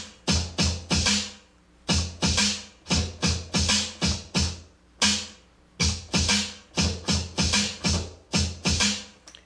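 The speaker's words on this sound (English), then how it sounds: "make turntable drumming sound like this" Turntable drumming in the early hip-hop style: short records-scratch bursts cut into a tight, repeating drum-like rhythm. The pattern loops steadily and stays loud and close throughout, with no talking.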